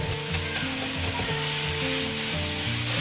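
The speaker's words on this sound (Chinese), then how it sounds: "我们再来一点点油，把这个泡面给它放上去，" Instant noodles frying in a little oil in a wok for soy sauce chow mein, a steady loud sizzle with light crackle, running continuously and close with no voices.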